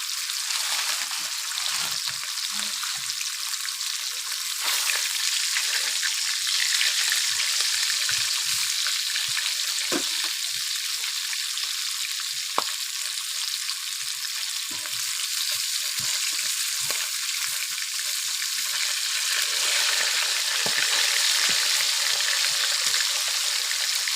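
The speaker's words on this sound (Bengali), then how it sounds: "এই দেখুন মাছ ভাজাগুলো কীরকম হচ্ছে" Pieces of fish frying in hot oil at home, a loud continuous crackling sizzle held close for the whole stretch, with a few small clicks and no talk.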